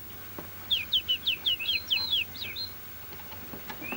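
Chirpy synthetic bird tweets from a computer ecology game, a quick run of about eight bright rising notes followed by a few fainter calls, alone with no talking.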